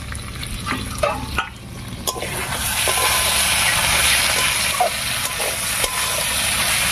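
Masala with potato and taro fries in a pan for a Bengali village-style fish curry, giving a loud, dense, steady sizzle with a few scraping clatters as it is stirred. No voices.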